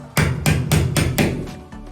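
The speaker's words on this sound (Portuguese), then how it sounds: "Encosto na parede e simplesmente bato." A hammer drives a nail into a wall to hang a decorative picture: four sharp, loud, evenly spaced blows close by, followed by a softer final tap, with no talking.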